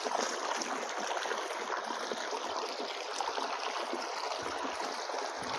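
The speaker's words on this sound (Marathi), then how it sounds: "इथून पाणी येते प्यायचं" Drinking water flows from a spring beside a river, a faint, even rush and trickle that continues without pause.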